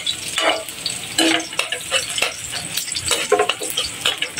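Garlic, onion and ginger sauté in a pan with a steady sizzle, broken by repeated stirring scrapes and light clinks of a utensil against the pan, close and continuous with no talking.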